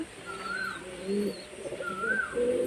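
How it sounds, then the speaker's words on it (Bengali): Madras pigeons give soft repeated coos, a few low warbling calls rising and falling, close and fairly quiet. "আড়াই জোড়া পায়রা নিয়ে চলে এসেছি"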